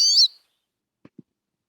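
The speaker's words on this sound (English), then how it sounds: "Most finch calls like this that sound kind of whiny are polyphonic." A single brief, whiny finch call with a buzzy, layered tone, followed after a pause by two faint, soft low thumps.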